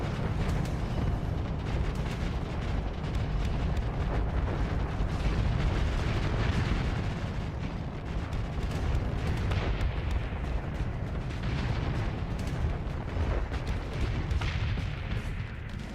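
Torpedo explosions in the space combat game Starsector, a dense continuous roar of blasts and rumbling booms that stays loud throughout with no speech.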